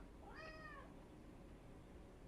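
A single cat meow, short and rising then falling, sounds once near the start before steady quiet background hiss.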